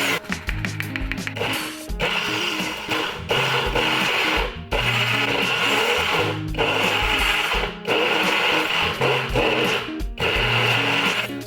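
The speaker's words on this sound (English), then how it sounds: "I'm just going to take a break for a second from the blender" A blender whirs loudly through a thick protein toffee mixture in repeated bursts of a few seconds each, with short pauses between runs and the motor straining and rumbling as the blades churn.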